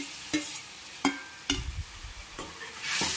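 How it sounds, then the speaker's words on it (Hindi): Cauliflower fried and stirred with spices in a pan for gobhi ki bhujia, a soft sizzle under several sharp scrapes of the stirring spoon, close up with no talking. "अब गोभी को भी हम मसालों के साथ में भून लेंगे"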